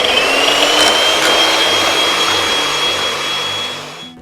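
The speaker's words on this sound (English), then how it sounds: "I'm going to whisk it until it forms soft peaks." Electric hand whisk beating cream with a tablespoon of icing sugar toward soft peaks, a steady loud motor whine with a faint rising pitch, running continuously and alone before easing off at the end.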